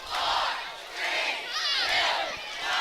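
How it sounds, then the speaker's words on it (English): Home crowd at a high school football game chanting a countdown of the final seconds, three loud rhythmic group shouts spaced about a second apart, filling the stands. "I love it when the crowd counts down the last few seconds."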